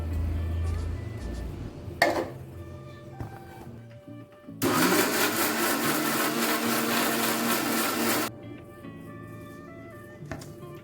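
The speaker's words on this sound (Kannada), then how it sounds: "ಇದಕ್ಕೆ ಇನ್ನೂ ಸ್ವಲ್ಪ ನೀರು ಹಾಕಿ ಮತ್ತೆ ಮಿಕ್ಸಿ ಮಾಡ್ಕೊಳ್ತೀನಿ" A mixer grinder blending tomatoes with added water whirs loudly for about four seconds, preceded by clicks and handling sounds, then stops abruptly.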